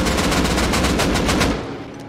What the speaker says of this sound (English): There's one shotgun trap, watch out.